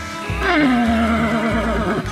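A horse on a farm lets out a loud, close whinny, one rising-then-falling neigh lasting about two seconds.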